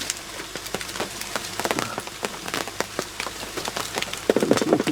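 Rain falling outdoors during a deer hunt, irregular close drops pattering and tapping on nearby surfaces over a steady wet hiss, with no one speaking.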